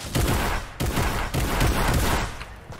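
Rapid bursts of gunfire in the video game Fortnite, loud and dense repeated shots in three quick volleys with no talking.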